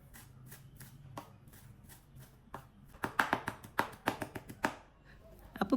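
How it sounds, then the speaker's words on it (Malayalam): A knife finely chops parsley on a board, a quiet run of quick taps that grows into a brisk rhythmic series of sharp close knocks. "പിന്നെ ഈ പാർസ്ലി നന്നായിട്ട് ചെറുതായിട്ട് പൊടിയായിട്ട് നമുക്ക് കട്ട് ചെയ്തെടുക്കാം"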